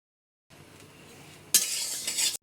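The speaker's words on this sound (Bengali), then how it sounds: "এবার এই চালগুলোকে আমি প্রায় 3 থেকে 4 মিনিট ক্রমাগত কিন্তু এইভাবে নাড়তে থাকবো যতক্ষণ না চালটা মুচমুচে হয়ে আসছে" Rice grains dry-roasting in a pan for homemade rice semolina, a quiet stirring scrape that turns into a brighter, louder rustling hiss for the last second, no speech.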